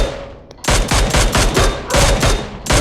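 Loud, close bursts of rapid automatic gunfire in the battle royale mobile game BGMI during a scrim match, several sustained volleys with brief gaps between them.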